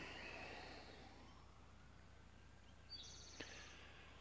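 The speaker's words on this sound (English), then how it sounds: "A siren." A faint siren wails far off, rising and falling under quiet outdoor ambience, with a brief high chirp near the end.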